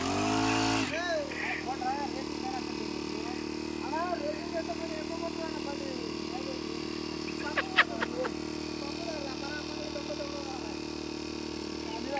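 A Swaraj tractor engine runs steadily, its low mechanical drone lasting throughout, with a few brief sharper bursts near the middle as it is revved, while people talk over it outdoors.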